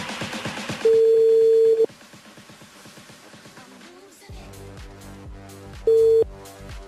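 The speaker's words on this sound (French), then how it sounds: "Elle appelle Erika du côté de la ravine des Cabris." A telephone ringback tone sounds on a radio broadcast as an outgoing call is placed: two long steady tone bursts separated by a pause, heard over music playing underneath.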